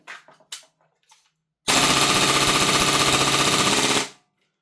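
Tokyo Marui MP7 airsoft gun on an HPA adapter fires one loud, rapid full-auto burst of about two and a half seconds, after a few faint handling knocks.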